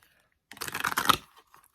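A deck of tarot cards gets one quick shuffle close by, a brief burst of dense papery riffling and clicking that stops after under a second. The surroundings are quiet and no one speaks.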